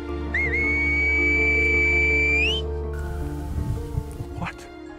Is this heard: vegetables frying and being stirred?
no